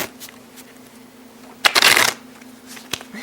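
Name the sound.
shuffling a deck of playing cards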